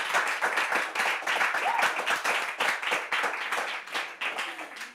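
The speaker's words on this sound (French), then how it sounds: "Nous allons ovationner bien fort notre ami." A small audience at a Bible quiz final applauds a contestant, dense rhythmic hand clapping held steady for several seconds, close and fairly loud.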